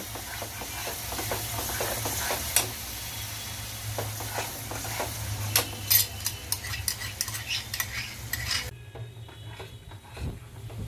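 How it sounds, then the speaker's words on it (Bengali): Whisked sour yogurt stirred into a spice masala frying in a pan for a prawn malaikari, with soft sizzling and repeated close scraping of a utensil, ending in quieter, sparse stirs, no talking. "এবার এই মশলার মধ্যে আমি টক দইটা দিয়ে দিচ্ছি।"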